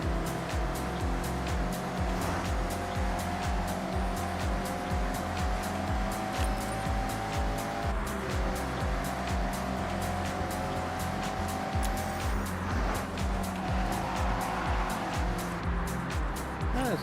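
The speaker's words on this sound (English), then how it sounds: "This car can go over 100 miles an hour if it's going downhill." A car racing along at speed in Forza Horizon 6, a steady rising and falling engine drone with gear shifts and tire noise continuing throughout, loud and close.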